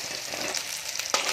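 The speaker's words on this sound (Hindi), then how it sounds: "अब ये हमारा परवल रेड नहीं हुआ है, इस तरीके से भूनेंगे।" Pointed gourd pieces fry in oil in a pan with a steady close sizzle, plus a brief stirring scrape near the end.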